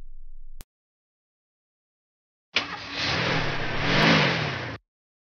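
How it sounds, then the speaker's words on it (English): A car engine revs up and accelerates after a brief silence, a loud, harsh, synthetic-sounding burst of roughly two seconds that rises and then cuts off abruptly. "I'm going to drive my dad's car."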